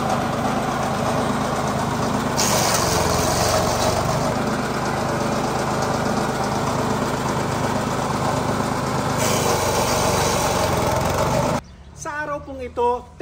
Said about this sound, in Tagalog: Ito po yung ating wood chipper o wood shredder.